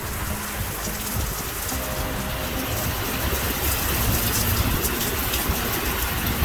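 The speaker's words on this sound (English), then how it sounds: "Just look at the rain outside." Heavy monsoon rain in Mumbai pours steadily outside, a dense, continuous hiss of drops drumming on surfaces, loud and unbroken with no voices.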